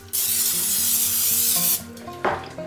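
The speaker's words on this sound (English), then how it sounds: "So we're just going to spray it a little bit." One long hissing burst from a spray bottle misting water onto bread dough runs for almost two seconds, close and loud, followed by a soft clatter and rustle.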